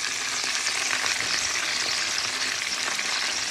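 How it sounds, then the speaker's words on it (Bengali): Prawns sizzle in a pan with a dense, even crackling hiss, close and steady throughout, with faint stirring underneath. "চিংড়িগুলো হালকা একটু ভাজা হয়ে গেলে আমি দিয়ে দিব হচ্ছে পেঁয়াজ কুচি"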